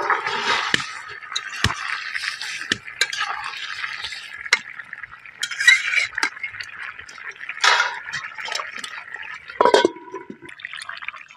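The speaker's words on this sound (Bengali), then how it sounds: "ভেজে রাখা মাছগুলো দিয়ে দিচ্ছি।" Fried koi fish are added to bubbling curry in a pot during simple village cooking, with soft splashes, scraping stirs and bubbling, plus a few sharp clinks and scrapes of a utensil against the pot.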